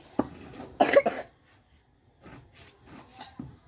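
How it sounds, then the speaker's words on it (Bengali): A couple of sharp coughs, brought on by grinding hot chili powder on a grinding stone, burst out close by over a faint steady high-pitched chirp, followed by quieter scattered rustling. "মনে করো যে একটু কাশি তো আসবেই"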